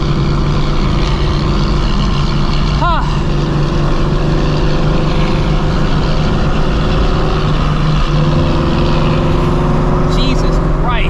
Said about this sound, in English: that truck is straight piped